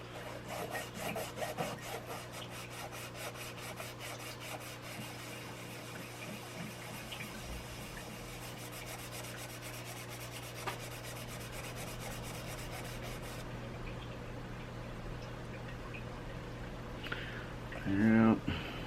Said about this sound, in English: Still using 400 grit sandpaper. This is the sear.